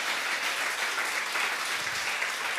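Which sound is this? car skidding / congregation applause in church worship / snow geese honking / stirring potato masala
congregation applause in church worship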